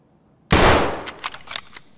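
Gunfire in Escape From Tarkov on the Reserve map, starting with a sudden loud close burst, then several sharp shots trailing off at a steady clip.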